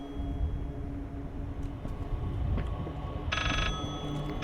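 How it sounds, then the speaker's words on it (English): Old telephone ringing in the horror game Layers of Fear, a sharp bright ring bursting in near the end over a low, droning ambient rumble, with no talk. "They always make me read while they play the annoying phone sound."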